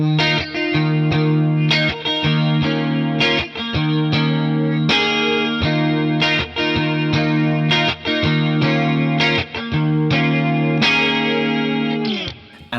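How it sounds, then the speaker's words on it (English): Electric guitar through the chorus effect of a Boss Katana amplifier, strummed chords with a shimmering, doubled tone ringing out in a steady rhythm, played alone and loud, with brief gaps between phrases. "So the effect we're going to be looking at today is chorus."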